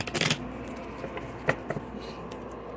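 A deck of cards is shuffled up close for a card reading, opening with a quick loud riffle burst and followed by softer taps and slides of the cards, with no talking.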